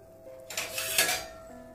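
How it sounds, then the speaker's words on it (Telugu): A metal lid is set down on a pot of homemade herbal hair oil just off the stove, giving a short clinking scrape of metal on metal, close and fairly quiet with no voices. "స్టవ్ ఆఫ్ చేసుకుని దీనిపైన మూత పెట్టేసేయండి"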